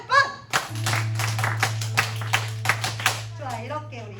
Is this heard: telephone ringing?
no